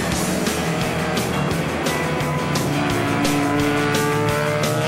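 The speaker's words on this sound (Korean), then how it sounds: "차량의 굉음과 함께 레이서들의 긴장감이 최고조에 이르는 순간이다." Race cars roar together at the start of a race just after rain, engines revving loud and close in a dense, continuous snarl with rhythmic pulses and faint tire squeal.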